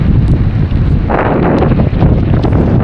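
Strong wind buffets the microphone in a constant roar, mixed with the dense hiss of heavy rain close by.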